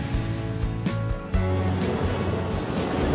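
Ocean waves break and wash along the Cantabrian coast of northern Spain, a continuous surging rush over a sustained musical tone.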